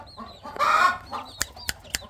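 Chickens cluck in a short burst, followed by a few sharp, brief chirps close by from naked-neck Plymouth crossbred chicks in a chick pen; no voices.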